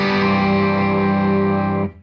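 An electric guitar on its bridge pickup, run through a pedalboard with chorus and drive, rings out as one loud sustained chord that holds steady for almost two seconds before being cut off abruptly, with no talk.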